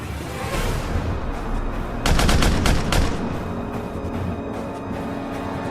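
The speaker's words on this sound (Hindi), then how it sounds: "साइड हो जाओ, हम फायरिंग शुरू कर रहे हैं" Gunfire in a Pakistani action movie scene, a quick burst of several rapid, loud shots in the middle, set over a steady rumbling background.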